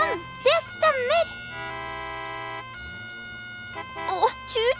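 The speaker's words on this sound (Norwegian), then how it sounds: "Slå på sirenen!" Cartoon siren switched on aboard an animated rescue vehicle in a children's show, wailing tones that rise and fall in quick repeated swoops, with a steady held tone between bursts, loud and close.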